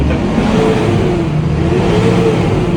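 A Lovol 3004 tractor engine revs up and holds at high speed, a loud, close, steady roar with rising pitch and no talking.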